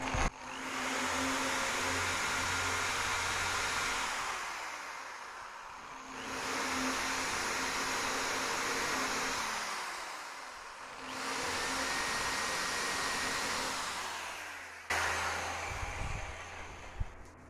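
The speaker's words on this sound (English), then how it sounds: "Now with a 3mm tip, I'm just going to enlarge these holes a little bit." An electric drill with a 3mm bit enlarges holes in metal parts of a mini lathe tool post gib strip, three long steady whirring runs spaced by short pauses, a softer shorter burst at the end.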